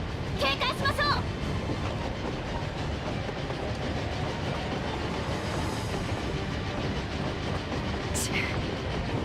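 A train rolls along in the game Final Fantasy XIV, a continuous loud rumble and rattle of wheels on rails, with brief sharp metallic squeals near the start and end.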